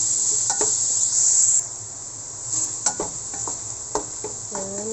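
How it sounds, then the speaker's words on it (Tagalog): Onions sautéing in a pan for palabok: a steady high sizzle close by, with scattered scraping and clinking of a utensil stirring the pan. "Lutuin muna natin yung ano, sibuyas."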